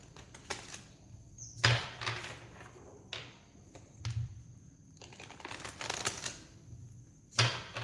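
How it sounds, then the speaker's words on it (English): A tarot deck is shuffled by hand during a live reading, giving soft, intermittent riffling bursts and card slaps, quiet and close, with faint gaps between. "I'm just shuffling your cards"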